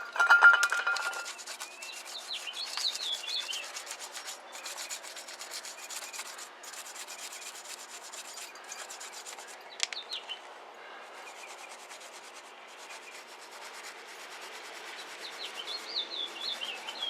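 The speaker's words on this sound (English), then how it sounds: "It definitely is working. It's taking a little scrubbing." Brake cleaner being scrubbed off a wheel on a 1978 Lincoln Continental Mark V, heard as faint, steady back-and-forth rubbing strokes with light scraping, while birds chirp softly in the background.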